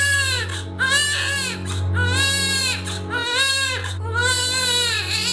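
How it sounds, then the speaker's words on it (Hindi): A four-day-old baby boy cries at night in loud, close, wailing bursts, about four cries with short breaths between, over a steady low hum. "साहब, रात को 2 बजे हमारा बच्चा रोया था।"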